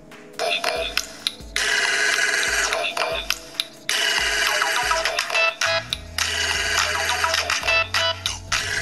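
A Moto G 3rd generation smartphone's single loudspeaker plays a ringtone loudly and close, a bright melodic pattern in repeated bursts with short gaps, then a lower sustained section near the end.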